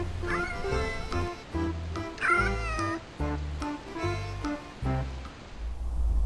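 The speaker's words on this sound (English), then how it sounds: "The more he tried, the more frustrated the cat became and the more vocal in his protestation" A frustrated cat at a hedgehog feeding station meows repeatedly in drawn-out, complaining calls, loud and close, with short pauses between cries and no speech.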